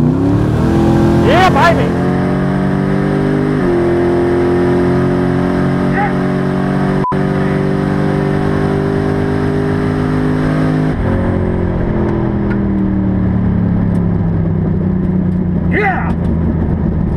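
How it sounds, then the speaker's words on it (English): A turbocharged drag car roars at close range through a long hard launch, engine droning loud and steady with a rising whine as boost builds, shifting partway through; a voice shouts briefly over it. "I want to just get the boost built up on this thing and get that turbo singing."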